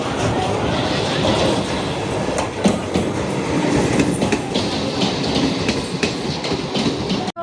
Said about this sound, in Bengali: তো আসছে আমার ট্রেন 2:47।